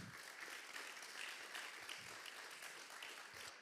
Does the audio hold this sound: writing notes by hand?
no